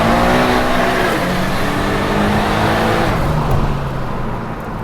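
A twin-turbo Datsun 240Z accelerates hard, its engine droning loudly with a rising harmonic whine through the gears, heard steadily from inside the car with no talk.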